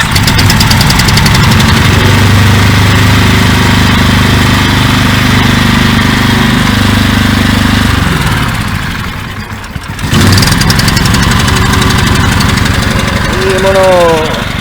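A small engine running after the choke is pulled fully out, heard at a flea market. It gives a loud, close, rough idle with knocking vibration, dips sharply for a moment, then revs back up while a voice talks over it.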